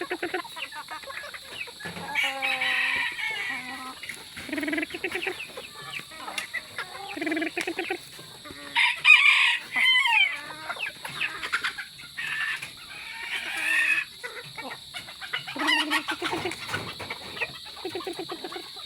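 Bantam chickens cluck and squawk in repeated bursts, close by and fairly loud, with some louder calls in the middle and steady background hum.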